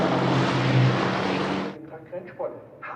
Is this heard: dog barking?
no